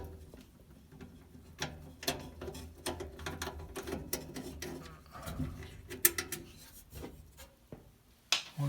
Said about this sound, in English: Now I've just got the socket and I'm just going to kind of twist these off.